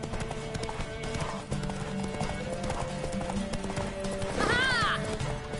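Rhythmic clip-clop of a horse's hooves in The Witcher 3 video game, steady and close over a game music bed, then a loud, shrill neigh rising near the end.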